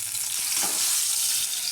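A blended kharkol leaf paste fries in oil in a wok with a steady, bright sizzle and a faint stirring scrape, heard close and alone.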